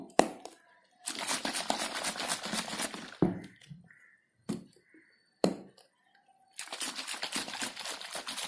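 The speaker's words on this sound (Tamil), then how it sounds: "நல்லா பிடிச்சிட்டு இதை நல்லா இப்படி இப்படி ஷேக் பண்ணணும்" A closed container of no-stove rasam ingredients is shaken hard in two long bouts of loud, rattling, sloshing noise, with sharp cracks and brief quieter gaps between them.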